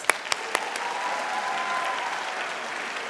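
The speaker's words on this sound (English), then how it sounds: "let's give her another round of applause" A graduation audience applauds a keynote speaker at an adult high school and GED ceremony: steady crowd clapping with a few sharp claps at the start, sustained and moderately loud throughout.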